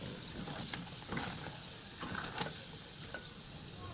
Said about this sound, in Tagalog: At isunod ko na lang din luto yung natira pa nating tokwa.